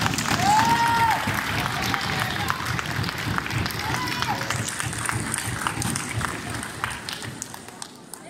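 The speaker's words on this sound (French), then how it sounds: "Applaudissez-vous, vraiment, vous le méritez." A crowd applauds steadily at the closing ceremony of an international chess festival, a dense wash of clapping that fades slightly toward the end, with a voice speaking over it.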